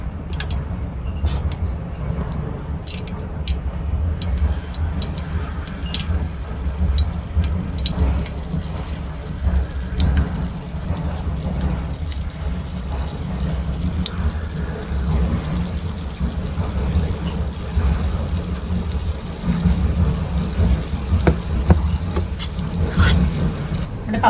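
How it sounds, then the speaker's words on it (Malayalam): Risen appam batter poured into hot oil, starting with a low pouring sound and swelling into a brighter, steady frying hiss that continues to the end. "എണ്ണ ചൂടായി നമുക്ക് ഒഴിച്ച് നോക്കാം."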